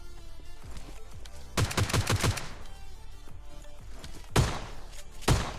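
Gunfire in the PUBG Lite game: a quick burst of several rapid shots, then isolated single loud cracks later, over a quieter in-game background with faint distant shots.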